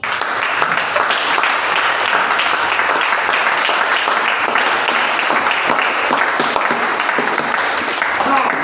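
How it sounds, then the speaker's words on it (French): A church congregation claps and cheers in acclaim of the Lord, loud sustained applause with dense rapid hand claps running steadily throughout, voices mixed into the din. "Est-ce qu'on peut acclamer le Seigneur?"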